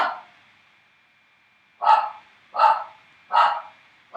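Several dogs bark in short, loud bursts at a steady rhythm after a near-silent stretch, sounding close and with no talking over them.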